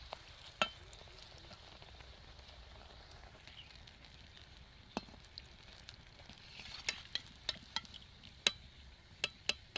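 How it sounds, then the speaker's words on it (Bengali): Eggplant fritters deep fry with a soft, steady bubbling, scattered sharp pops and crackles that grow more frequent toward the end. "এরকম করে সবগুলো আমি ভেজে তুলে নেব"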